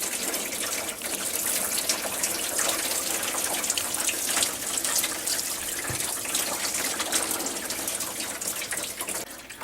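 Coolant gushes out of a disconnected radiator hose on a 2003 Chevrolet Suburban during a water pump replacement, a continuous splashing, hissing pour that runs steadily close by with no speech over it.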